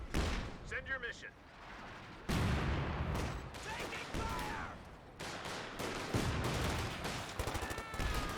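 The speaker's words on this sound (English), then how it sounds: "Going for a barrage on this guy here." Artillery barrage in Company of Heroes 2, a real-time strategy game, heard as repeated heavy booms and bursts of gunfire that rise and fall in loud waves, with battlefield voice lines mixed in.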